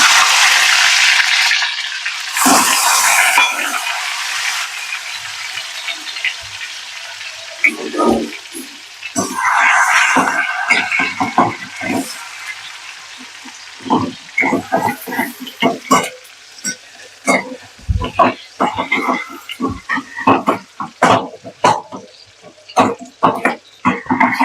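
Tomato drops into hot oil in a pan for Khandeshi vangyache bharit, setting off a loud burst of sizzling frying that settles into crackling and scattered scraping stir strokes.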